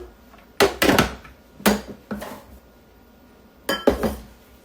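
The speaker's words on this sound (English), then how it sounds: "I'm going to put about a cup of pecans in there" Pecans tumbling into a measuring cup for a creamy fruit salad, several sharp clattering bursts with clinks, separated by short quiet gaps, fairly close.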